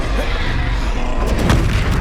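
Confringo fire spell going off in Hogwarts Legacy: one dense, continuous low boom lasting about two seconds, with a sharper crackling burst near the end.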